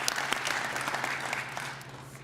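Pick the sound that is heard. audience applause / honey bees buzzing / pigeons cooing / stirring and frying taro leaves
audience applause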